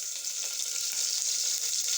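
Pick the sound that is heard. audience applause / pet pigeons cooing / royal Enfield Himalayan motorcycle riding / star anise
star anise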